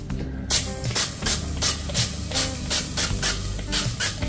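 Cooking oil is sprayed into an air fryer in a series of short hissing bursts, roughly eight or nine close pumps in a steady rhythm.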